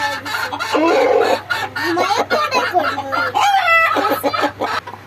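A chicken clucks loudly and close in a busy run of calls, with a rooster-like crowing phrase in the middle, over a low steady hum.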